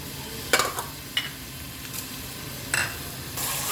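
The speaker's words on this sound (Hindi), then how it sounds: "ऑयल डालने के बाद इसके अंदर प्याज ऐड कर दूँगी।" Onions and whole spices frying in hot oil for a mutton stew, with a soft steady sizzle under a few sharp clacks of a spoon stirring against the pot.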